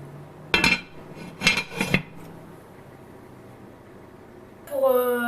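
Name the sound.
putting a lid on a cooking pot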